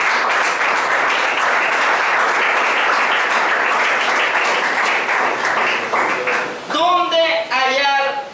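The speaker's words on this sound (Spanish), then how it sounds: "Aplauda a Cristo, hermano." A church congregation applauds during a Spanish-language sermon, steady close clapping that runs for several seconds before a voice speaks over its tail end.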